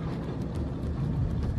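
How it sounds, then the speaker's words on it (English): Dodge Ram pickup truck engine idling after a gauge repair, a steady low rumble with continuous broadband noise, fairly close and unbroken, with no talking. "Truck is running."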